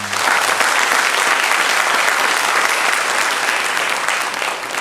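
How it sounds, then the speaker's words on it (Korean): A church congregation at a Sunday morning service breaks into loud, sustained applause, a thick, even roar of many hands clapping throughout with no gaps. "여러분 큰 박수로 다시 한번"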